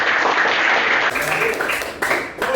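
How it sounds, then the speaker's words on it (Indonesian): Classroom applause for fellow students during a religious education lesson: a short, loud burst of clapping from a group, with some voices mixed in underneath. "tepuk tangan buat teman-teman"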